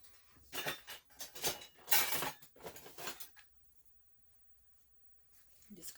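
A spoon is wiped and handled during candle making with eucalyptus, giving a run of close metallic scrapes, rubs and clinks over the first few seconds before it goes quiet.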